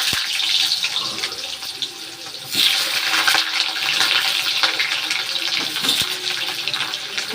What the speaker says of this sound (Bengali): আলুগুলো একটু ভাজবো।